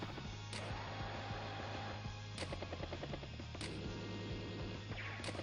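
Tanks firing on an anti-air unit in the game Advance Wars: Days of Ruin: a dense, continuous barrage of rattling game gunfire and mechanical clatter, loud and steady, with sharp bursts punctuating it.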